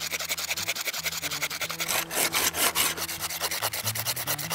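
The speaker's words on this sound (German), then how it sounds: "Und in dem Falle könnt ihr dann sägen und es klappt wunderbar." A bushcraft hand saw cuts through a wooden branch outdoors, close rhythmic rasping strokes back and forth, with a faster, harsher flurry in the middle before the steady strokes resume.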